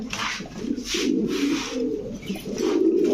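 A male Maxi Beauty pigeon coos close by in a cage, repeating short, throaty rolling phrases in a steady rhythm with no voices over it.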